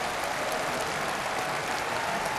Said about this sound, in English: you could see in that clip there the applause in the hall